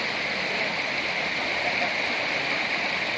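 River water in a deep Indonesian river rushes and churns in a steady, loud, broadband roar that fills the whole stretch, with no talk over it.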